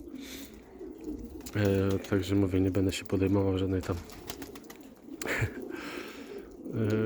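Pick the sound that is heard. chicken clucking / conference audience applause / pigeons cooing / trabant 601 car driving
pigeons cooing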